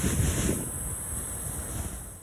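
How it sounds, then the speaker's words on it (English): Rushing torrent of a flash flood pouring over a waterfall in terrain that was bone dry shortly before, a steady loud roar with wind buffeting the microphone, strongest at the start and easing slightly, no voices. "Want to see what a flash flood looks like?"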